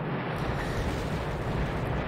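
Soviet artillery barrage shelling in the wartime strategy game Battle Academy 2, a continuous rumbling wall of distant blasts blending into one steady roar with no pauses.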